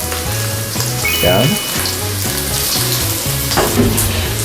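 Shrimp hit a hot pan of garlic and fry with a steady loud sizzle and crackle, with a brief spoken interjection and some stirring noise over it.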